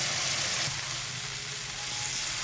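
Minced chicken keema fries in a pan for keema matar with methi, giving a steady close sizzle with no talk.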